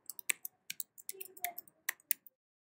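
Someone types a password on a computer keyboard: about a dozen quick, close, crisp key clicks in an uneven rhythm, then silence.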